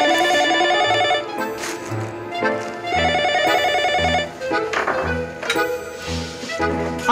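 An office telephone at a dairy products trading company rings loudly and repeatedly, its bright electronic trill layered over steady background music.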